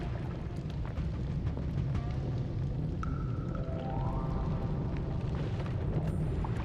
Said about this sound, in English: Everything just keeps bursting into flames.